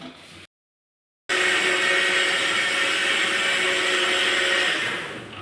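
Mixer grinder grinding roasted coconut into a paste for chicken curry, starting with a short burst, stopping briefly, then running as a steady loud whirring roar for several seconds before slightly tapering.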